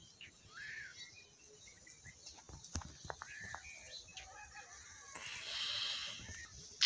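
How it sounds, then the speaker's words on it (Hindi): Scattered high-pitched morning bird chirps and calls ring out in a quiet outdoor setting after a windy night, some near, some distant, with faint background noise. "हर जगह पे परिंदों की आवाज़ें आ रही हैं चहचहाने की"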